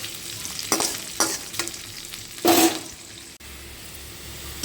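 Onions frying in oil in a home kitchen pan, a steady low sizzle with a few louder stirring scrapes and a brief bright burst of spatter, heard close with no talk.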